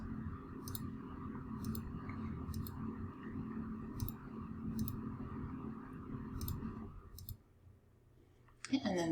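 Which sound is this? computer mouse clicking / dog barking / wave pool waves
computer mouse clicking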